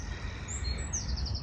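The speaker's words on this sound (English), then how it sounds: "Got all the bird life up here as well" Birds calling at the mouth of a bay: a few thin, high chirps come faint over a steady low rumble of wind or water in a short stretch of outdoor air.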